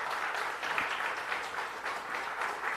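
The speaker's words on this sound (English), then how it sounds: "I think they deserve a round of applause." Applause from a conference audience at a launch event, dense, steady clapping that rises and falls slightly for a few seconds, filling the room with no talk over it.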